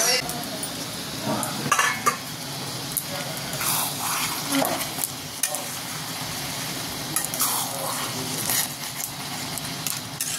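Date, tomato, cashew and raisin chutney stirred in a pan over heat, a steady scraping stir with a soft sizzle and occasional utensil clinks against the metal, close up, with faint voices in the background.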